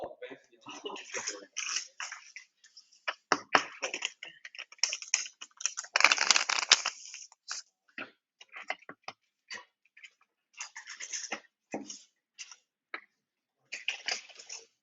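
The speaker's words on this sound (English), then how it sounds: "So just shuffle real good." A deck of playing cards shuffled repeatedly, giving bursts of quick riffling clicks and flutters that start and stop across the stretch, close and moderately loud.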